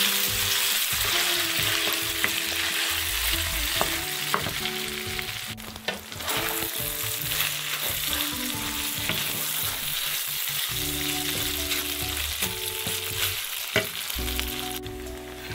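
Salami cut into long strips sizzles and crackles steadily in hot oil in a pan for pasta, with occasional stirring scrapes and clinks, loud and close with no talk.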